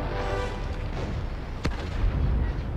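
A tank cannon firing in the World of Tanks video game, a single sharp, heavy blast cutting through a loud rumbling battle background, followed by continued low booming.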